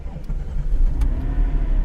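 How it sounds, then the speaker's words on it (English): A Porsche 911 GT3 engine fires up and settles into a steady, loud low rumble, close by, with a couple of brief higher clicks over the continuous drone. "Let's put on the seatbelt and let's start the car."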